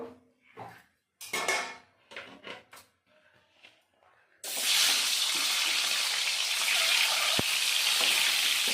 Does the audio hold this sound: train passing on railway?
no